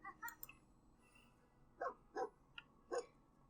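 Small dogs from The Sims 4 video game yipping and barking in short separate bursts, a few quick high yaps, a pause, then several sharper barks, clear and close against a quiet background.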